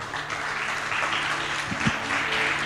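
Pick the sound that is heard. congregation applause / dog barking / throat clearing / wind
congregation applause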